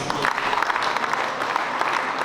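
Applause at a prize-giving ceremony as a commune is saluted, a steady even patter of many hands, fairly soft and continuous throughout.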